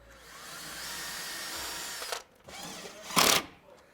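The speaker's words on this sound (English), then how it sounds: "So get your drill." A power drill whirs steadily for about two seconds, then gives a couple of shorter bursts, close by with no talking.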